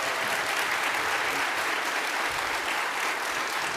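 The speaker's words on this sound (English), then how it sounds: "give them a round of applause" Steady audience applause at a UCP leadership debate in Edmonton, given to the candidates on stage: dense, even clapping from a sizable crowd, loud and continuous throughout without a break.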